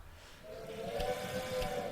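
Steam train whistle from the Railway Empire 2 video game, two short bright toots sounding over a low steady rumble of gameplay ambience at moderate level.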